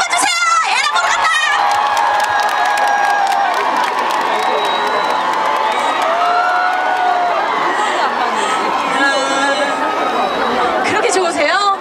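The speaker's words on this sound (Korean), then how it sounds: "여러분, 우리 선배님께 박수 한번 주세요!" Audience at an outdoor concert for a fish market opening, loud sustained crowd chatter with cheers, whoops and children shouting mixed with some clapping, while voices ring out over the noise.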